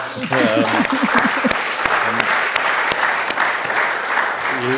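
A crowd applauds with steady clapping, while a voice speaks over the start and returns at the very end.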